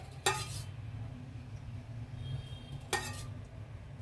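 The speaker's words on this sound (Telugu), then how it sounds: "చికెన్ ఫ్రై కోసం నేను స్టవ్ ఆన్ చేసి కడాయి పెట్టాను" A kadai pan is set on a stove for chicken fry with two sharp metallic clanks about three seconds apart, against a quiet kitchen background hum.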